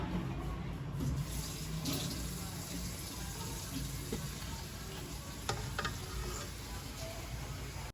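Water goes into a pan of frying palak gosht masala, producing a continuous hiss and sizzle with faint bubbling and stirring, close and fairly loud throughout.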